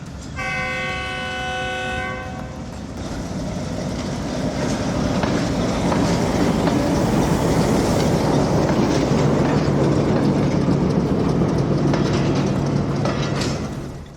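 A train passes along a railway track near Lahore railway station in Pakistan, opening with a loud horn blast and then a steady, close, roaring rumble with rhythmic clickety-clack of the wheels that fills the whole stretch.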